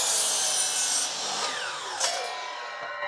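Power saw cutting a mitered wood joint, a bright high whining and rasping cut that sustains, then tapers with a sweeping pitch drop as the blade spins down, close and fairly loud without talking.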